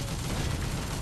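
Continuous dense rumble of artillery barrage and gunfire in the video game Toy Soldiers: War Chest, a steady loud wash of blasts with no talk.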